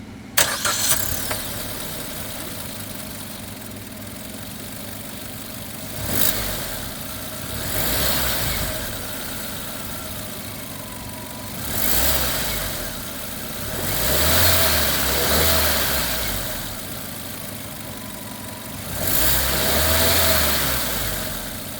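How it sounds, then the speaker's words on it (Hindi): Maruti Suzuki Grand Vitara Zeta CNG SUV engine cranks and starts, settles into a steady idle, then revs up and down in four or five distinct throttle blips, heard close with no talking. "स्टार्ट करते हैं इंजन एंड सुनते हैं इंजन साउंड"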